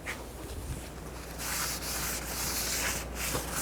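A wire brush scrubs corrosion off a front brake caliper bracket on a 2005-09 Volkswagen Jetta, giving close, harsh rasping strokes that run continuously and grow louder and denser partway through.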